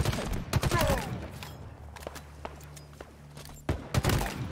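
Gunfire crackles through a firefight in Halo Infinite, with sharp shots in uneven bursts, dense clusters at the start and end, over a steady low rumble.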